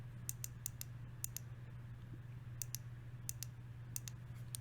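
Button of an Anker Bolder LC40 flashlight clicked repeatedly, sharp small clicks in pairs and short clusters over a low steady hum, close and fairly quiet.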